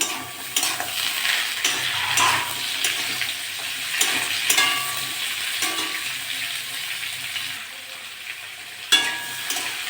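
Potatoes and ridge gourd frying with browned onions in a pan for a Bengali chorchori, an uneven sizzle with spatula scrapes and stirring clatter, close and moderately loud, fading slightly toward the end, without talk.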